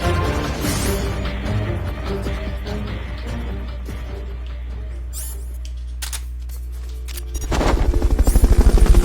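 Helicopter rotor drone in Metal Gear Solid: Peace Walker, a steady low hum throughout with game effects and clicks over it, swelling into a louder rhythmic chopping pulse near the end.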